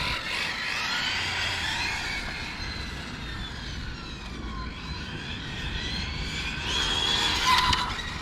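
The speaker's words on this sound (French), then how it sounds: "Il fait un sacré raffut le B-Wing au freinage." A Hobao Hyper GTB long-wheelbase RC car brakes hard on a parking lot, giving a steady whining, scraping noise that swells toward the end, close and fairly loud.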